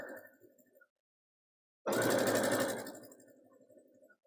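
A sewing machine runs close and alone for about a second, stitching a full seam in one steady, fast whirring burst before slowing to a stop. Soft room sounds come before and after.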